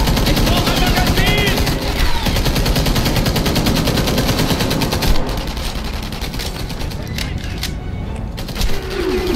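Continuous rapid automatic fire from a British-style gun in the shooter Enemy Front, loud and close, a dense rattling stream that runs almost unbroken for several seconds before easing slightly near the end.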